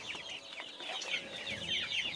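Hens on a small farm cluck continuously in a busy flock, overlapping short calls close by at a moderate level, with no talking.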